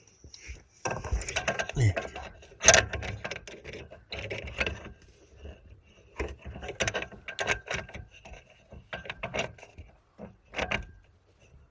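A ratchet works a nut off the clutch master cylinder of a Honda Civic with a faulty, stuck clutch pedal, giving close bursts of rapid clicking with metallic knocks and pauses, and one brief spoken word.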